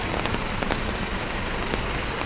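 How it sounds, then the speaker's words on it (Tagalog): Heavy rain pours at an outdoor market in Hong Kong on a wet afternoon, a dense, steady hiss of drops hitting surfaces all around, loud and continuous with no speech. "Lumakas na naman ang ulan."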